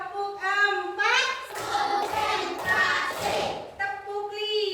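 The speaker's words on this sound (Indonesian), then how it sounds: "Tepuk 1, tepuk 2, tepuk 3, tepuk 4," A classroom of children claps hands in rhythm, with bursts of clapping between loud chanted counts from young voices.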